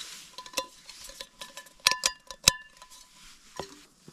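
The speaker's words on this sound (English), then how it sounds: "let's get all this cooking gear out and get me fed" Camping cooking gear is pulled out of a pack on a Lake District mountainside, with metal pots and utensils giving sharp clinks and clatters in irregular bursts, a few brighter ringing knocks standing out, close and fairly quiet.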